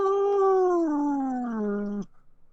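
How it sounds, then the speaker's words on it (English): A pet cat lets out one long, drawn-out complaining meow that slowly falls in pitch, loud and close, then cuts off abruptly into quiet. "Is that someone's cat?"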